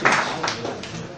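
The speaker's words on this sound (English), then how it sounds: "Wow, are we still clapping for him?" Audience clapping at a 2019 FCT political debate, a brief burst of scattered hand claps with some noisy chatter mixed in.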